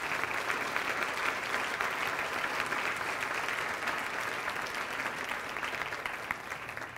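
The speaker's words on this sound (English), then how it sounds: "Give yourself a round of applause." Audience applause at a United Way campaign kickoff event, a steady, dense clapping from a crowd that continues evenly throughout and eases slightly toward the end.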